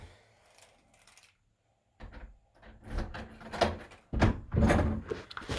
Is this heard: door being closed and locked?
yes